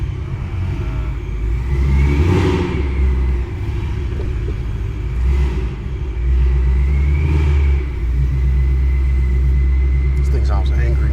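A 700 HP Ford Mustang GT with a 5.0 engine revs in a few loud surges over a deep, steady rumble, close by and sustained, with people talking over it.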